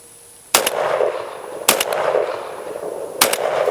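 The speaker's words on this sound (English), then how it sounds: "we're going to go ahead and take a couple 3 shots" A Beretta 1301 Tactical LE shotgun loaded with buckshot fires three loud, sharp shots on an outdoor range, spaced roughly a second or more apart, each followed by a brief echoing tail over steady background noise.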